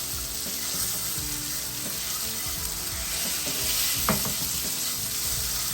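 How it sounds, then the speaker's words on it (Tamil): Egg masala sizzles steadily in a pan over a small stove on low flame, with a continuous close frying hiss and soft scraping as it is stirred, plus one brief sharper clink near the end. "இப்போ நம்ம முட்டையை ஸ்லோவாக வச்சு நம்ம சின்ன அடுப்பில் ஸ்லோவாக வச்சு நம்ம இதை மிக்ஸ் பண்ணலாம்."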